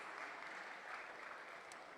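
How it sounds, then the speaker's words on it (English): A conference audience at a Haiti tech summit claps for a panelist, steady dense applause that sounds faint and distant throughout. "Let's give her a round of applause."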